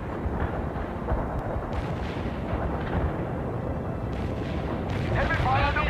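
Heavy artillery fire in the real-time strategy game World in Conflict, a continuous rumbling barrage of booms and distant blasts, with radio-style voices talking over it.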